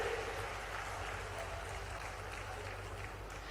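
Crowd applause for the chief minister at an outdoor public event for a tribal pride and women's empowerment day, broad continuous clapping over a steady low hum from the sound system.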